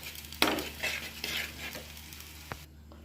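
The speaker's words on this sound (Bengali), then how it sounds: "এটাকে ভালো করে কষাবো।" Soybean chunks being sautéed with turmeric, cumin and chili powder in a pan, with close stirring scrapes and a steady sizzle, a few sharp utensil knocks against the metal, then a quieter tail.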